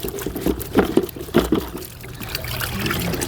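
An R2C air filter splashed around in a bucket of water, giving several irregular sloshing bursts up close, then a steadier trickle of dripping water.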